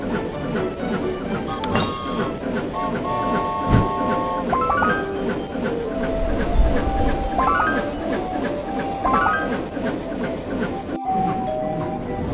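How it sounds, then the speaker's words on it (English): A cartoon train rolling along toward Snow Mountain, steady rumbling clatter with clinks and tonal whistle-like accents, close and continuous, with voices in the background. "The train is approaching Snow Mountain."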